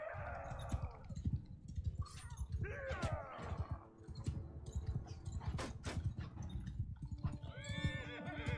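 Horses in the Mount & Blade Bannerlord video game whinny and neigh several times amid clip-clopping hooves and battle noise, fairly close and loud with no talk.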